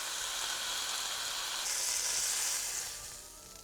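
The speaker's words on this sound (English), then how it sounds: "Press it down. Get that nice crust," Beef fillet for beef wellington sears in a hot pan, giving a steady, close sizzle that swells briefly midway before easing off, with no voices.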